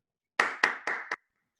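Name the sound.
round of applause at Toastmasters meeting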